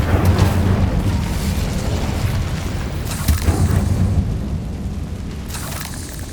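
Incendio fire spell cast in the video game Hogwarts Legacy, a loud, deep rumbling whoosh of flame that swells at the start, surges again midway and slowly tapers off.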